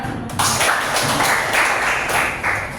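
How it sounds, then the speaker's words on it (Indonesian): Classroom of students clapping hands together on cue, a dense, steady burst of applause that swells, holds and briefly surges again, with faint voices underneath. "semuanya boleh tepuk tangan"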